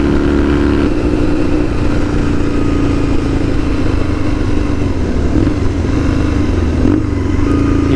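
A Kawasaki KZ750 Scrambler motorcycle at riding speed, its engine droning steadily and loudly the whole time, with wind rumble over it.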